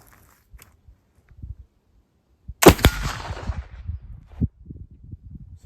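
A single black powder gunshot from a homemade powder made with old fence board charcoal: one loud, sharp crack followed by a short rumbling tail, with scattered low thumps and handling noise around it.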